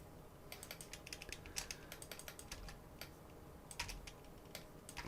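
Keys tapped on a computer keyboard while typing a new project name in Cubase: quick, light clicks in short irregular bursts with small pauses, close and fairly quiet.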